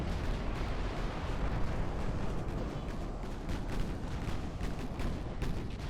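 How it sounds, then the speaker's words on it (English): Naval artillery from enemy battleships shelling a fleet at long range in Ultimate Admiral: Dreadnoughts, a continuous dense rumble of overlapping booms and blasts with no talking. "3 enemy battleships are shelling my fleet from far away"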